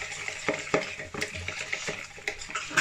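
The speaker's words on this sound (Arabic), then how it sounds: "غادي نخلط مزيان" Batter for fried calamari being stirred: steady wet, scraping churn with repeated sharp clacks of the utensil against the bowl, close and continuous.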